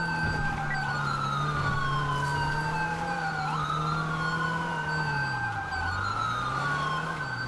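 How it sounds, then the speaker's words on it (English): A police siren wails loud and steady, cycling up and down in pitch, close by over the hum of a moving vehicle, with one deeper dip near the end. "I'm killing the siren because we are not even going through traffic."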